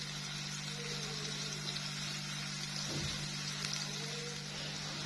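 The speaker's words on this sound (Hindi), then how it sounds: "प्याज को हम मीडियम से लो फ्लेम पे 2 से 3 मिनट के लिए फ्राई करेंगे ताकि प्याज थोड़ा सा" Onion frying in a pan over a medium-low flame for a veg masala macaroni, a steady soft sizzle with a constant low hum underneath, no voices.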